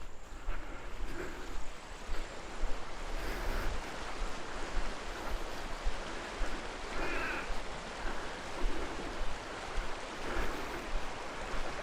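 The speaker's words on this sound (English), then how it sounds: "That's quite a nice little creek, running" A small shady creek running well among wildflower country, giving a steady, soft rushing and trickling of water close by, heard alone without talk.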